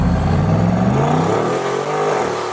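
A Ferrari 458 engine revving from behind on a road after a red light stop, loud and sustained with a rising then settling mechanical roar, no talk.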